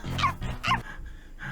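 A voice actor imitates a small dog from the anime JoJo's Bizarre Adventure Part 3, giving two quick yappy barks close up, then a soft whine. The sounds are voiced rather than coming from a real dog.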